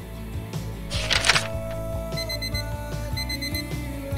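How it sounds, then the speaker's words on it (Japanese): A kitchen timer rings with rapid, continuous electronic beeping while tomato soup pasta cooks in a single frying pan, close and steady with faint clatter underneath. "はい、タイマーになりました。"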